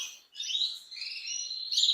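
A female ivory intensive canary sings a continuous, bright twittering warble with a brief pause near the start, close and clear with no talk.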